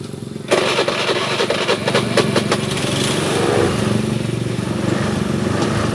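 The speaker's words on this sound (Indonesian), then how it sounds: "kita coba hidupkan dulu mesinnya apakah dia mau naik" A Honda Beat FI scooter engine cranks and catches after a short starter whir, then settles into a loud, close, steady idle with faint knocking pulses.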